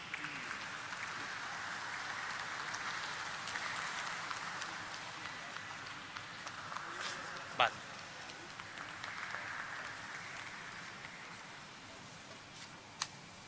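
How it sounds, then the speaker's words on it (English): Audience applause at a stock exchange listing ceremony for Cyient DLM Limited, steady clapping from a crowd lasting several seconds at moderate, somewhat distant volume, with a couple of sharp knocks. "Please give a big round of applause to NSE team"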